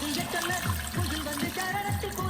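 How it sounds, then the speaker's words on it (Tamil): Water poured into a cooking pan for upma, about four cups to one of semolina, a steady splashing trickle close by with a low hum underneath. "நமக்கு தேவையான அளவு தண்ணி."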